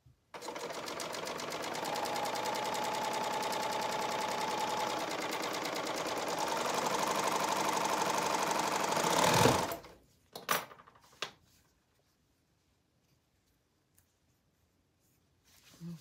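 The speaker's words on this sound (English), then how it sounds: "And see what's going on with the serger." A serger overlock sewing machine runs steadily for about nine seconds with a dense mechanical whir, then stops, followed by a few faint handling clicks and near silence.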